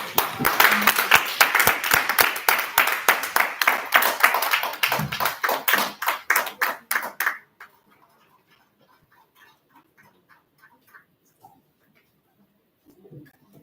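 An audience at a book launch claps for about seven seconds, many distinct hand claps in a lively patter that thins and stops abruptly, leaving a near-silent room with faint scattered sounds.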